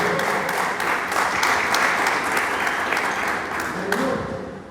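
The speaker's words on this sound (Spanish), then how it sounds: "Denle palmas al Señor" A church congregation bursts into loud, continuous clapping in praise of the Lord during a sermon, a dense, even wash of hands that tapers slightly at the end.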